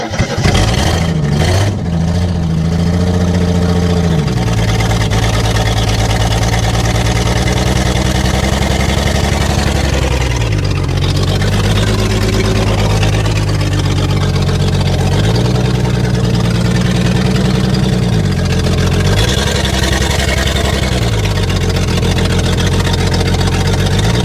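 A 1974 AMC Javelin V8 left in trees for over thirty years cranks, catches and settles into a loud, steady low idle, with the revs rising and falling several times, close up and continuous throughout.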